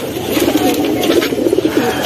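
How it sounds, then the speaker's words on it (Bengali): A large male pigeon coos in a steady series of low, throaty rolls, close and fairly loud, with no talking over it. "এটি নর কবুতর।"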